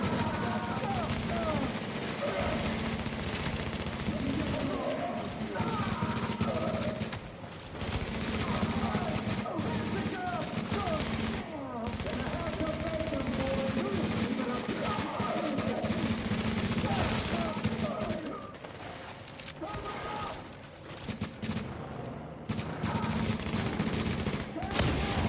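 Gunfire in the tactical shooter The Division rattles almost nonstop, with dense automatic bursts and overlapping shots at close range, keeping a loud, busy texture throughout.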